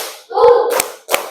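Classroom clapping chant by a group of fifth-grade pupils, a few loud close claps in a quick counted pattern with a brief burst of voices.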